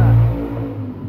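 Freshly cleaned household exhaust fan whirring strongly, a loud steady motor drone that eases slightly after a brief opening surge.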